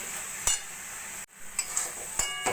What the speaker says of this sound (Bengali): এবার এইভাবে নাড়া দিয়ে দিয়ে নাড়ুটা আমাদের করে নিতে হবে